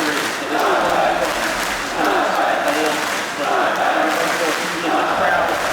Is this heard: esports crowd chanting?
yes